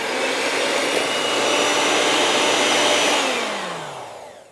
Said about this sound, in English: And you're gonna mix again, another 45